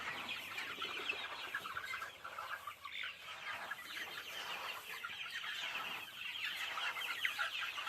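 Dense chorus of chickens clucking continuously, many birds at once, with a busy poultry-farm bustle throughout and no talking.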